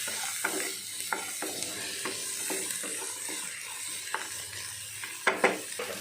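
Vegetable pieces for a jowar soup fry in oil in a pan, a steady sizzle with sharp utensil clicks and scrapes of stirring scattered throughout, a few louder knocks near the end.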